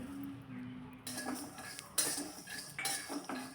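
A spoon stirs peanuts and white sesame seeds roasting in a pan, giving soft, quiet scraping and several small clinks of metal against the cookware over a low background hum.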